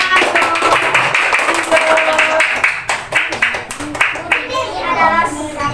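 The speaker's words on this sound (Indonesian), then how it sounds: "Ya, tepuk tangan dulu." A short burst of hand clapping in a school classroom, several quick claps in a row, mixed with a teacher's voice speaking over it.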